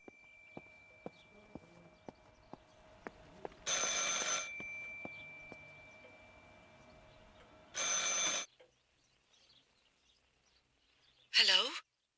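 A telephone rings in the game Martha is Dead: two loud, sustained bell bursts sound alone after a run of soft, evenly spaced footsteps, and a brief swishing flourish follows near the end.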